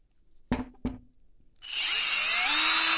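Two sharp clicks, then a cordless drill whirs up to a loud, steady whine while unscrewing the screw on a shower cabin door wheel.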